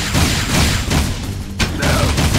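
Dense, steady gunfire and loud impacts during a boss fight against Krew in Jak II on PS5, continuous bursts with a few sharper crashes throughout.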